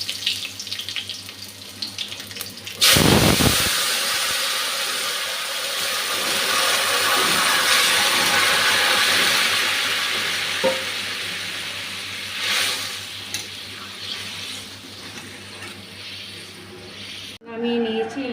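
Green chilli and nigella seeds hit hot oil with a sudden loud burst, then a steady, close sizzling hiss carries on before it cuts off sharply near the end.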